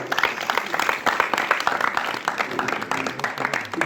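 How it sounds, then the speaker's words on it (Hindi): Audience applause at a Chhattisgarhi folk song performance, dense steady clapping that fills the whole stretch, loud and close, with no voice heard over it. "एक बार जोरदार ताली बजा के"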